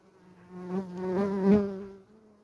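A steady buzz of honeybees at a hive, droning and close, swelling slightly in loudness before fading after a couple of seconds.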